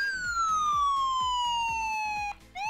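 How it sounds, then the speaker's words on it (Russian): A mobile phone, the ARK Power, sounds its SOS alarm: a loud, steady electronic siren with a slowly falling pitch, cutting off briefly near the end before it starts again. A faint rhythmic thumping runs underneath. "Нажимаем клавишу SOS, слышим сирену."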